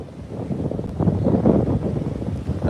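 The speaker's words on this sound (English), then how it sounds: "the wind is quite loud out here" Loud wind buffets a microphone outdoors beside a car, a steady low rumbling roar that swells around the middle and keeps blowing throughout with no voice over it.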